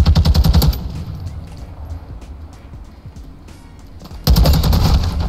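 Gunfire in the video game Call of Duty MW2, two loud rapid automatic bursts at the start and end with quieter scattered shots and game noise between, no talking.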